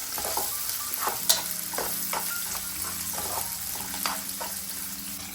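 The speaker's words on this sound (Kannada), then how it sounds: "ನೆಕ್ಸ್ಟ್ ಕ್ಯಾಪ್ಸಿಕಮ್ನ ಆ್ಯಡ್ ಮಾಡ್ತಾ ಇದ್ದೀನಿ. ಸ್ವಲ್ಪ ಹಸಿ ಸ್ಮೆಲ್ ಹೋಗೋವರೆಗೂ ಇದನ್ನು ಫ್ರೈ ಮಾಡ್ಕೊತೀನಿ." Capsicum fries in a pan over a medium flame with a steady, moderate sizzle, broken by occasional scrapes and stirring taps at close range, without any voices.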